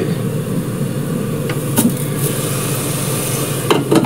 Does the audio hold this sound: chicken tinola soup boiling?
yes